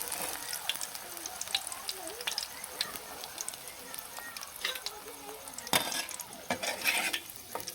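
Cucumber fritters (shosar beguni) frying in hot oil until deep reddish-brown, then being lifted out, with steady soft sizzling and a few sharp clinks of a utensil against the pan, fairly close.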